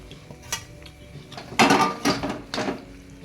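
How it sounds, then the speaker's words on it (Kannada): A metal utensil stirs chutney in a pot, giving light scrapes and then several louder clanks and rattles against the pot's sides in uneven bursts. "ಒಂದು ಸ್ವಲ್ಪ ತಣ್ಣಗಾಗಣಿಕ್ಕಿ ಬಾಳಗಿನ ಪೂರ ಚಟ್ನಿ ಹಾಕಿ ಮಿಕ್ಸ್ ಮಾಡಿರ್ತೀನಿ"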